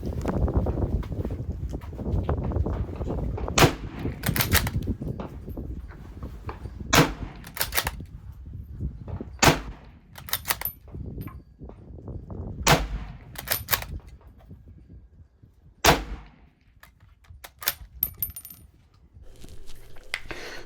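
An M38 Mauser bolt-action rifle fires about a dozen sharp, loud reports at uneven intervals, each crack standing alone above faint wind noise in an open outdoor range.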